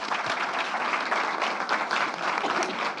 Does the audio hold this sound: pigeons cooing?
no